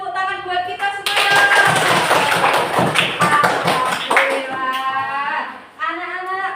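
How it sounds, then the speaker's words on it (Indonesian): Schoolchildren in a classroom clapping together, a burst of dense, lively applause lasting several seconds, with young voices chanting or calling out just before and after. "Kita beri tepuk tangan buat kita semua."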